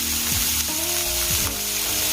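Shrimp sizzle loudly in a hot pan for garlic shrimp Alfredo, a steady frying hiss with scraping and stirring clatter through the whole stretch, no voices.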